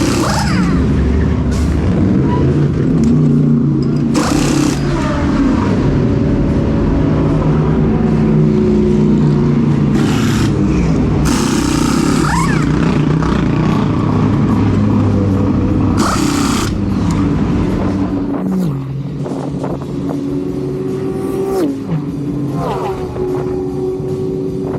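Race cars at the Spa 24 hour endurance race roar through the old pit lane near the pit wall, loud engines revving and passing close in repeated surges over a continuous mechanical din.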